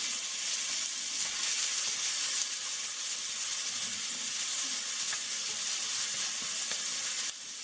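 Onions sizzle and fry in a pan with leftover lamb drippings, a steady bright hiss with faint crackles that holds evenly and then drops slightly at the end, with no talk.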